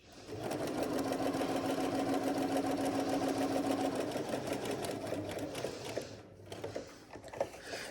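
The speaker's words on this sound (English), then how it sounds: "we're going to stitch without reversing a straight stitch all along that edge" A Bernina B335 sewing machine runs a steady straight stitch along a fabric edge, a loud continuous whirring hum with fast rhythmic needle ticking for about four seconds, then slowing into softer, uneven clicks and handling noises.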